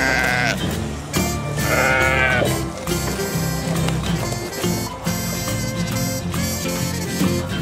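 Sheep bleat repeatedly at a farm feeding show, loud and close, with several overlapping animal calls and crowd noise.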